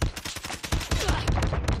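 Rapid gunfire from a first-person shooter match, including shotgun blasts, comes as a loud, dense burst of repeated sharp shots, several clustered in quick succession near the start and more scattered shots after.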